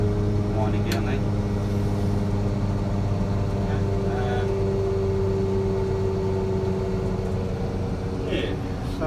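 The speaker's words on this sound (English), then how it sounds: "Now the Mulcher's just winding down itself on its own." A Serrat orchard mulcher hitched to a Plaisance Variotrac VT 300 tractor keeps spinning after its drive is switched off, a steady mechanical hum and drone under the tractor's engine, loud and continuous.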